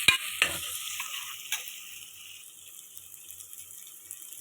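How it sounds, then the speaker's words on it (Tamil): Onions and green chillies sizzle and hiss steadily in a hot pan, with a few scraping stirs near the start, then an even frying hiss. "இது கொஞ்சம் நல்லா வதங்கட்டும்."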